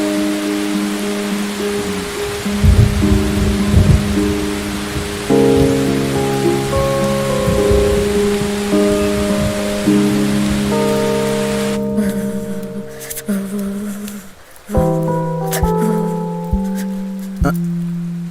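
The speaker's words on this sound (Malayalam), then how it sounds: "ഞാൻ മഴ കാണാൻ വന്നതാ." Rain pouring down over open fields, a steady hiss of drops on surfaces heard under sustained musical tones, with no speech.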